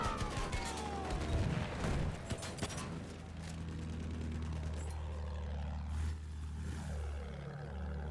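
Fighter plane flying past in Battlefield 1, with loud bursts of gunfire up front, then a droning propeller engine that sweeps downward in pitch as the aircraft passes.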